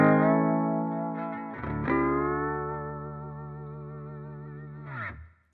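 Slide guitar turnaround played low on doubled octave strings, sustained gliding notes ringing out with a couple of slides and a final swell, alone and close.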